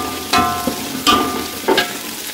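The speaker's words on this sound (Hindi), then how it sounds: "लहसुन का पेस्ट डालने के बाद तकरीबन 5 सेकंड के लिए मैं इसको जो है भून लूँगी अच्छे से" Garlic paste fries in a pan with a steady low sizzle, broken by three distinct scraping stirs of a spoon spaced roughly evenly; no one speaks.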